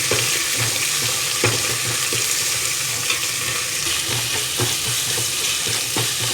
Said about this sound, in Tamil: ஒரு டீஸ்பூன் வந்து இஞ்சி பூண்டு பேஸ்ட்டு எண்ணெயிலே போட்டுக்கலாம்